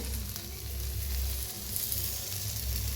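Eggplant roasting on a hot tava griddle gives a continuous close sizzle and crackle, fairly steady in level with faint low rumbling underneath.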